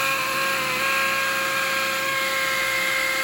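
A power drill whines steadily and loudly at close range, driving Tapcon screws through 2-inch XPS foam into framing to hold lath, with a sustained tonal motor drone and no pauses.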